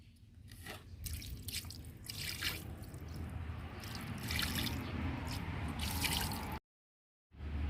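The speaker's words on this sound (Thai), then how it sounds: "เดี๋ยวเรามาราดน้ำกันค่ะ" Water poured over a scrubbed floor after cleaning with a moss-removing powder, a continuous splashing gush with dripping and trickling, rising slightly then cutting off briefly near the end, no talk.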